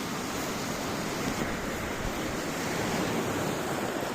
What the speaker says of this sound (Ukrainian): Щось хвилі так розхвилювалися